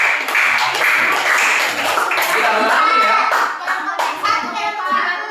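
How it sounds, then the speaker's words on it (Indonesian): An elementary school class claps hands together in a loud, dense burst close by, the clapping rising and falling with children's chatter and a teacher's voice mixed in. "tepuk tangan dong kalau gitu ya"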